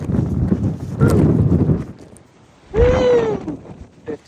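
Strong wind buffets the microphone on a mountain stretch of the Pacific Crest Trail between Mount Laguna and Julian, coming in loud rumbling gusts with a lull between them and a brief whistling tone.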